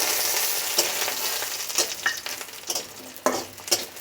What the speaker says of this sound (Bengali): তো আমি বড়িটাকে একটু লাল লাল করে ভেজে নেব